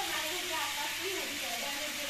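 Vermicelli and vegetables stirred with turmeric and spices in a frying pan, giving a steady close sizzle with soft scraping of the spoon throughout.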